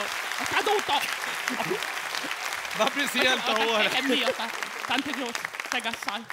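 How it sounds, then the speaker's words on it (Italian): Spontaneous audience applause at a Sicilian cabaret show, a steady patter of clapping running under loud, continuous stage talk from several voices. "Applauso spontaneo."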